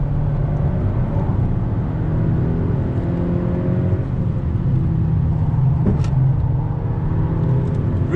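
A 2019 Honda Civic Si engine drones steadily from inside the car as it drives around a bend, a loud, even hum with little change in pitch and no talking.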